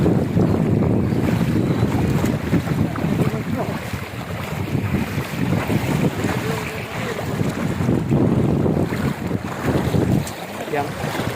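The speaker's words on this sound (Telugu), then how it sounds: "ఎంత దారుణంగా వస్తుందో వాటర్." Floodwater from an overflowing stream rushes over a submerged road and paddy fields, making a loud, continuous roar with wind buffeting the microphone throughout.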